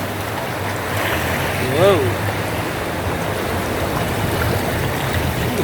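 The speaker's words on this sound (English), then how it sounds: "Coming into some rough water." Rough, churning water on a river ride at Volcano Bay water park in Orlando, a steady loud rushing wash close by, with a person briefly exclaiming over it.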